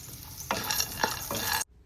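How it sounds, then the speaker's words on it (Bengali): Cashew nuts fry in a frying pan with a soft, steady sizzle, while three scraping stirs sweep through the pan before the sound cuts off abruptly. "সেই ফ্রাই প্যানে আমি এখানে কাজু বাদামটা ভেজে নিচ্ছি"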